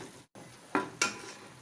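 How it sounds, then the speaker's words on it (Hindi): Sizzling of beef frying in a pot, with two sharp hissing bursts as pieces are stirred, close and moderately loud. "ये देखें भुनना शुरू हो गए।"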